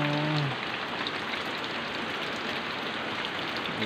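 Heavy rain pours down on a Sunday morning, a loud, steady, dense hiss of drops drumming on surfaces that continues without a break.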